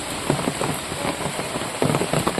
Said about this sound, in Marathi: इकडे आता पाऊस चालू झाला आहे इकडे बघताय पाऊस पडतोय